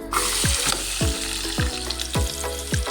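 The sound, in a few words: onions frying in hot oil in a kadai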